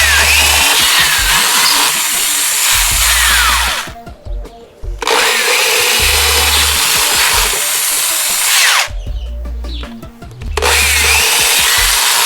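A circular saw cuts wood up close in three long, loud, harsh bursts separated by brief pauses.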